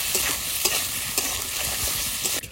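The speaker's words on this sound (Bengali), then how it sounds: "আলুগুলো একটু ভেজে নিই, তারপর ঝিঙে দেবো।" Potatoes fry with salt in a home kitchen pan, a dense continuous sizzle close by with light rhythmic scrapes of a spatula throughout.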